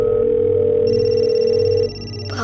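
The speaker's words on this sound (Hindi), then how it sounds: "लेकिन फोन तो आपके रूम में बज रहा है।" A telephone rings in a room with a steady electronic tone, loud and continuous, then cuts to a lower level with a brief rustle at the end.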